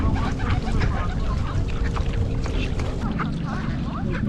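Ducks feeding on the water in a castle garden where many pigeons gather, with scattered quacks and honks over constant outdoor bustle and crowd noise, fairly close.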